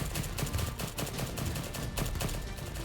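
Continuous gunfire in a Normandy beach defense video game, dense overlapping bursts of rapid shots and fusillades at a steady, loud level with no pauses across the whole stretch.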